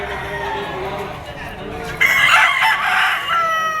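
A rooster crows at a busy Padre Garcia, Batangas poultry market, its loud, drawn-out call rising over crowd chatter and other birds. The crow comes near the middle and runs close and strong to the end.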